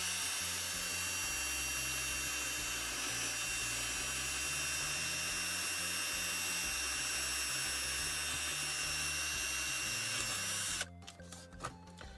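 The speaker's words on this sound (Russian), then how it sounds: "Сверлим отверстие." Small power drill boring a hole through a plastic Kyocera TK 1200 toner cartridge, a steady whining drone near and loud for about eleven seconds before cutting off into brief handling clatter.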